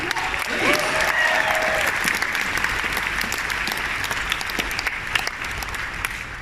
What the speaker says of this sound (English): huge round of applause for that